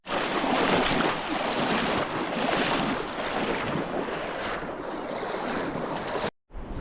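Hiker wading on foot across a river in New Zealand's Hopkins Valley: steady, loud rushing water and splashing close by with wind buffeting, running continuously before cutting off abruptly near the end.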